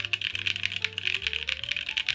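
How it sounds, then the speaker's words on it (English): Rapid, steady typing on a Vertex Arc 60 plateless mechanical keyboard fitted with JWK Oolong switches, close and clear, with dense overlapping keystrokes and no talk. "let's do another typing test"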